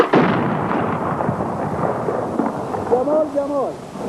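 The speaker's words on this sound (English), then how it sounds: "As dusk falls over Kabul, the guns on the surrounding mountains open up." Artillery guns firing from the mountains around Kabul at dusk, heard as distant rolling booms and a continuous low rumble, with a voice faintly present near the end.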